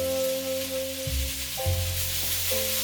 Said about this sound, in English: Toss that garlic in there.